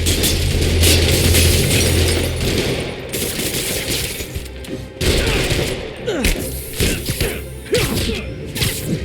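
Rapid bursts of gunfire from goons in the video game Marvel's Spider-Man, loud and dense at first, then scattered shots mixed with whooshing swings and impacts.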